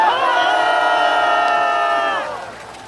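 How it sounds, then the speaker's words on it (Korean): Crowd at a Korean national security gathering raises a loud, sustained roar of cheering for a US general, the massed voices holding steady before trailing off near the end. "우리 신글로브 장군을 위해서 박수 한번 칩시다."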